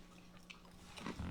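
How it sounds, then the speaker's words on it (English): Someone bites and chews crispy southern fried chicken liver, producing faint close crunches that build toward the end over a quiet room hum. "I can hear you crunching"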